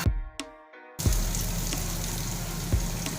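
Garlic and ginger dropped into hot oil, a steady loud sizzle and crackle of frying that settles into a continuous hiss after a few brief clinks.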